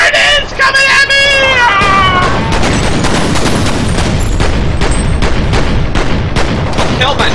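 Rapid volleys of gunfire and grenade blasts ring out in a video game firefight, loud and sustained, with sharp repeated shots throughout. A voice shouts and yelps over the shooting at the start.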